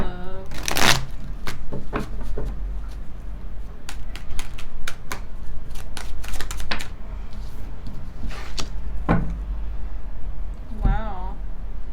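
A deck of tarot cards is shuffled by hand in quick, close riffles and snaps that repeat in bursts for several seconds, with a voice speaking at times over the clatter.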